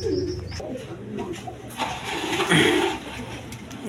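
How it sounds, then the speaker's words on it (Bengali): A pair of magpie pigeons sit guarding their eggs, giving soft, low cooing calls at close range, with a brief louder flutter partway through. "এখানে এক পেয়ার কবুতর আছে ম্যাকপাই কবুতর, দেখেন এরা খুব আরামসে দেখেন বসে রয়েছে আর ডিম পাহারা দিতেছে"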